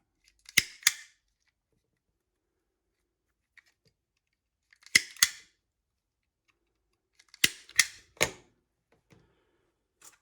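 Sharp snipping clicks of a wire stripper cutting and pulling insulation off harness wire for Deutsch DT connectors, in three separated bursts of two or three quick snaps each, close and crisp against silence.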